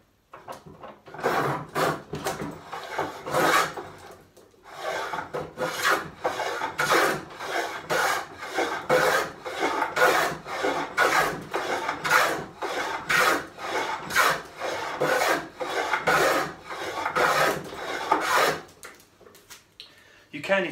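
Rebate plane cutting a rebate in timber, with repeated rasping strokes of wood shaving in an even back-and-forth rhythm, close and clear, for about twenty seconds before stopping.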